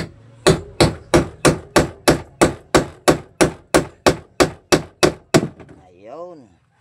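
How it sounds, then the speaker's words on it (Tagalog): A steel hammer pounds the shaft of a washing machine gear case, where the pulsator mounts, in about fifteen sharp, evenly spaced metallic strikes close by; a voice speaks briefly after the hammering stops. "Tapos pukpukin lang natin yung ihi sa gear case"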